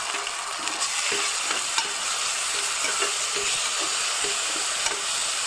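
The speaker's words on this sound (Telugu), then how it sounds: "అల్లం వెల్లుల్లి పేస్ట్ 2 స్పూన్స్ వేసి వేయించుకోవాలి" Two spoons of ginger garlic paste fry over already browned onions in a pan, a loud continuous hissing sizzle with light stirring ticks scattered through it.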